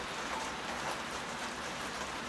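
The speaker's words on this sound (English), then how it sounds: "It's rainy, it's humid out." Steady rain falls around a warm, humid greenhouse on a cloudy day, a soft continuous hiss of drops with no talking.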